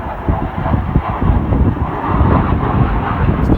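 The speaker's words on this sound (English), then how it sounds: "I just let that airplane go by right quick." A steady low roar of an airplane passing overhead, broad and rumbling, with wind buffeting the microphone throughout.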